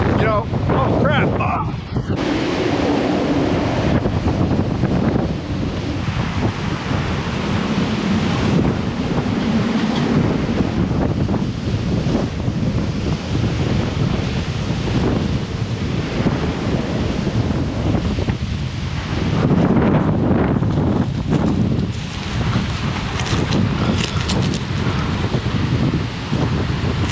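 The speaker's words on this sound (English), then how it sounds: "Sometimes in Skagway it gets a little bit windy." Strong wind gusting at a boatyard in Skagway, Alaska, a loud, continuous roar buffeting the microphone, with surges and lulls across the whole stretch.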